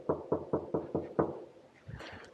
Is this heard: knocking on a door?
yes